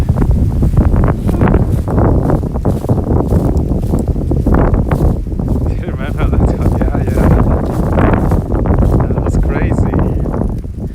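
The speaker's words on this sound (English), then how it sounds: "Oh, yeah, strong wind." Strong winter wind in Japan buffets the microphone in a loud, continuous roar with heavy low rumble and gusty surges, while someone speaks over it.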